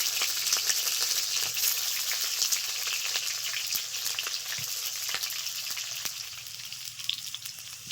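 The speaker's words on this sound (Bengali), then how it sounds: "তেল গরম হয়ে গেছে ভেজে নেব" Pointed gourd frying in hot oil over medium heat, a steady crackling sizzle with scattered sharp pops, close and continuous with no talking.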